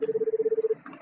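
A telephone is dialed in an RPG Maker horror game, a rapid run of about a dozen identical electronic tone pulses in steady rhythm, then a faint dull clunk as it stops.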